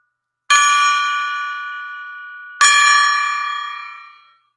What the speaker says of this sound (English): Let's ring the gong, the golden gong, right?